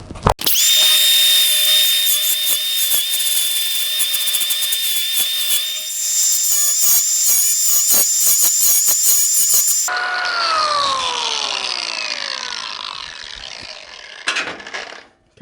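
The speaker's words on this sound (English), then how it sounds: "I'm probably still going to pick a stone simply because of the accuracy of my grind." A stone grinding disc cuts into a metal joint on a garden bench, giving a loud, steady, close high-pitched whine and grinding rasp that changes tone partway through, then winds down and stops.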